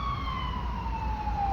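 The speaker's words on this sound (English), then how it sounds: "excuse the sirens on the background" An emergency vehicle siren wails in the background, a steady tone slowly sliding downward, over low traffic rumble, with no talking.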